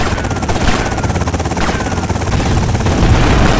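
A dense, rhythmic helicopter rotor thump in GTA Vice City churns loudly and continuously, mixed with rapid gunfire-like crackle.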